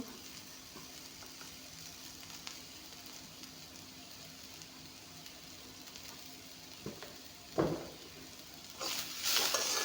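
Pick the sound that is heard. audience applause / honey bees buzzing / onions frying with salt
onions frying with salt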